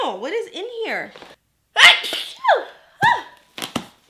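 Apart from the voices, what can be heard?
sneeze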